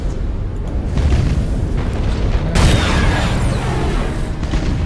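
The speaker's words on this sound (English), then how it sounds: "Try to fire some torpedoes at him" Torpedo explosions in the space combat game Battlefleet Gothic: Inquisition give a dense, continuous rumble of booms that stays loud throughout, with a heavier blast surging about halfway.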